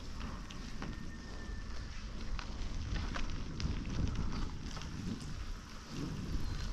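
Rain falling outdoors by a lake in Sidi Bel Abbès, Algeria, a steady diffuse patter with occasional crackling drops and some wind rumble on the microphone, continuous and fairly quiet, with no talk.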